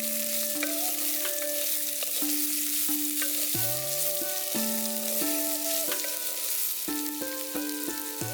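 Onions frying in a pan for seviyan upma (sev upma), a steady, loud sizzle running throughout, with intermittent stirring clinks over it and background music tones.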